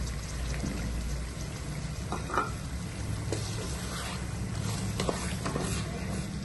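A cup of green peas tumbles into a pot already holding round-cut carrots while cooking aloo matar pulao, a pouring rattle with soft sizzling underneath, close and continuous.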